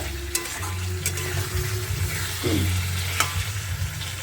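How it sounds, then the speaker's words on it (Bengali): Masala for a catla fish curry with potatoes fries in a pan while it is stirred. A low sizzle runs under scraping strokes and a couple of sharp clinks from the utensil against the pan. "কিছুক্ষণ পর পরই নাড়া দিতে হবে না হলে পরে মশলাটা ধরে লাগবে"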